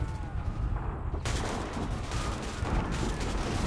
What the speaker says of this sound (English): Get to cover! Get down! Incoming fire!